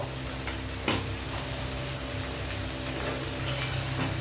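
Potatoes fry lightly in a pan for a vegetarian aloo dum, giving a moderate, even sizzle close by, with a few faint clinks of a utensil.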